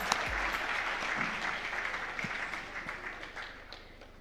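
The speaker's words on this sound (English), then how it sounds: "Did we give a big round of applause to our panelists?" Steady applause from a conference audience at a financial planners summit, a continuous wash of many hands clapping, moderately loud and sustained without a break for several seconds.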